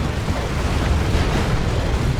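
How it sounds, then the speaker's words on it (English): A Hell Fury strike explodes in the Dawn of War 2 strategy game, in an Imperial Guard versus Space Marines match, as a dense, sustained rumbling roar that stays loud and steady throughout, with no speech over it. "Hell Fury strike"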